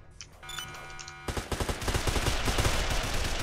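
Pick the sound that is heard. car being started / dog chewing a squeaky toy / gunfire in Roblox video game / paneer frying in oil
gunfire in Roblox video game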